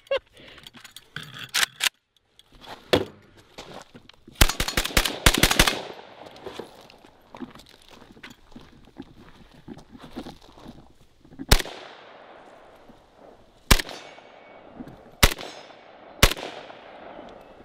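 A Century AES 10B Romanian RPK rifle firing outdoors, loud clustered bursts of rapid shots followed by several single sharp reports with echoing decays, mixed with handling noise and some talk.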